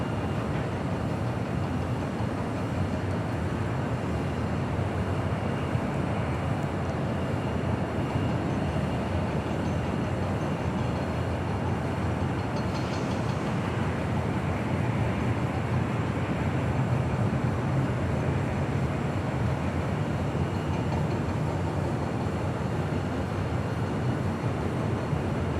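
United Airlines Airbus A319 jet at Los Angeles International Airport, a steady loud broadband engine roar that persists evenly throughout, with no speech.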